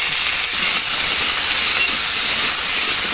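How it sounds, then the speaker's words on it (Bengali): Kohlrabi frying in a pan with spices and salt, a loud, continuous close-up hiss of sizzling oil with no pauses. "সবজিটা একটু ভাজবো।"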